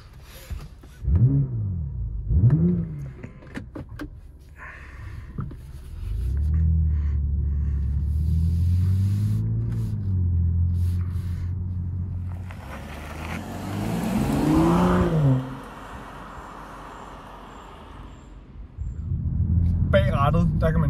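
A BMW M440i xDrive drives with a deep engine rumble that swells and drops as it accelerates and revs, mixed with a few louder bursts and occasional tire and road noise from inside the cabin.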